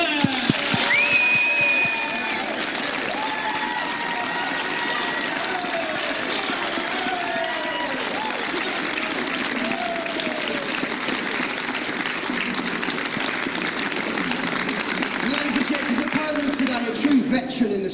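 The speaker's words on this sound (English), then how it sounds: "a big round of applause for Darren Dynamite" Crowd applause greeting pool player Darren Appleton at the 2006 World Pool Championship quarter final, sustained steady clapping from a large audience, with an announcer's voice and a few whoops over it.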